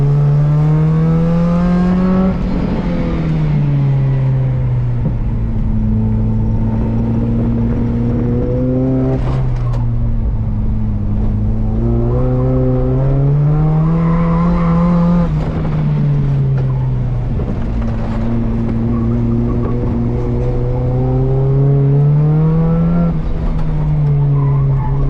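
A Volvo 740 fitted with an IPD 25mm sway bar understeering through track corners, its engine droning loud and close, pitch rising and falling between corners, with tire scrub and squeal during the turns.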